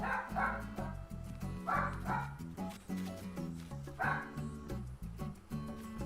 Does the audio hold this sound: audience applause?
no